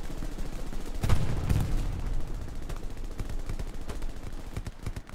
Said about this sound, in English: I got shots on that side